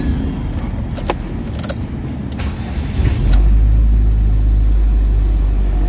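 A Ford EcoSport cranked and started: a few seconds of key jangling and clicks, then the engine catches and settles into a loud, steady idle close by.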